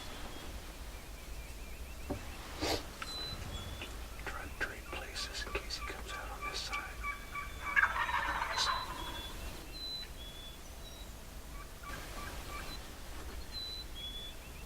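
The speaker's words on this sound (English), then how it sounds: "of the turkey sounds that you hear are real" Wild turkeys gobble at a distance in quiet countryside, several rattling bursts with scattered birdsong and a hushed whisper nearby.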